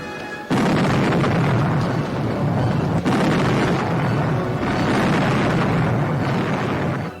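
Cannon fire from a warship in a pirate battle, a sudden loud boom followed by sustained roaring rumble and a second blast, dense and close.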